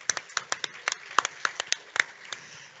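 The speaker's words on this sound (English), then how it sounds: "give yourselves a round of applause" Scattered hand claps at a Microsoft Ignite governance session, a thin audience clapping in irregular sharp bursts rather than a full wave of applause, fairly close and without talk.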